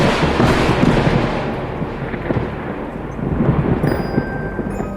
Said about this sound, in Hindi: तेज बिजली के साथ बारिश पड़ रही थी